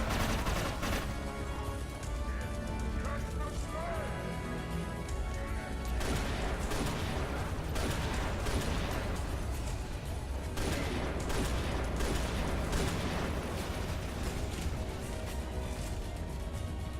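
An auto shotgun in the shooter game Inversion fires a dense, continuous run of loud blasts amid heavy combat noise, the shots overlapping with barely a pause.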